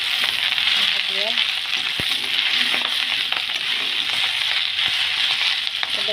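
Saag, a pan of leafy greens, fries on low-medium heat with a steady, dense sizzle and crackle, broken by a few faint clinks of stirring.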